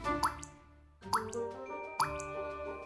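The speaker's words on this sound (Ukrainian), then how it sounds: "з крана тихесенько капала вода" Water drips quietly from a kitchen tap, three distinct, evenly spaced plinks about a second apart, each a small resonant plop ringing briefly in a still room.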